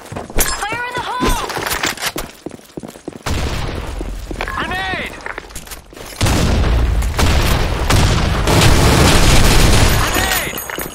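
A grenade blast and gunfire from a video game: sharp shots and booms come early, then a loud sustained rumble of explosion and debris fills the second half, with voices and game callouts mixed in.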